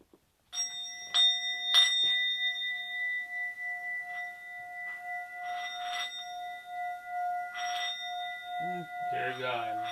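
Door chime or doorbell ringing with a sustained, steady tone that runs through the whole stretch, while indistinct voices and movement sound over it and a louder burst of speech closes it out.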